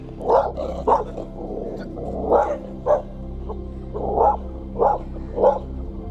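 A dog barks again and again outdoors, loud and close, in a steady run of sharp single barks. Brief growly tones sit between them over a constant low hum.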